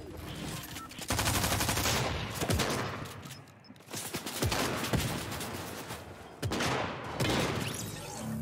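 Rapid gunfire in Fortnite, loud bursts of automatic shots in several volleys with brief pauses between them, close and dominant throughout.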